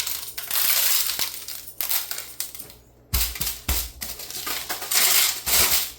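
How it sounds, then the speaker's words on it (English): Coarse salt is shaken heavily onto a raw porterhouse steak in close rustling, crackling bursts, with a few sharper knocks in the middle. "I'm going to give this a heavy coat of salt"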